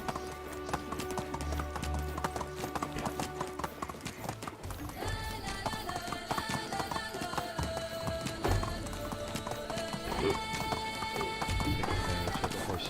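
Horse hooves gallop in a steady, rapid clip-clop rhythm throughout the Medieval Dynasty video game, loud and continuous over layered in-game ambience.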